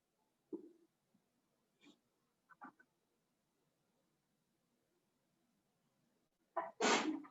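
A sneeze in a classroom, one sharp loud burst near the end after a few faint scattered noises in an otherwise quiet room.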